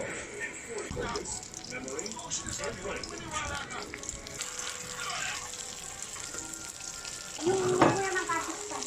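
Dried fish (tuyo) fries in a little oil with a steady crackling sizzle and occasional pops, while someone talks over it.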